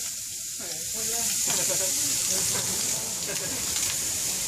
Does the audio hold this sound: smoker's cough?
no